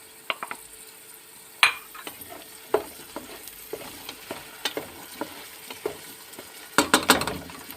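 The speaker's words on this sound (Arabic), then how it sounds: "راح نضيف عليها البازاليا نحمسها مع البصل ربع ساعة" Meat frying in a pan with peas and onion, a soft, steady sizzle broken by frequent light clinks and scrapes of a stirring utensil against the pan, close by and with no voices.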